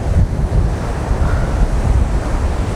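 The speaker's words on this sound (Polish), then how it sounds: "Fale przekozackie, wiatr oszałamiający." Ocean waves roll onto a Tenerife beach while strong wind buffets the microphone, giving a constant, loud, rough wash of surf and gusts with no voices.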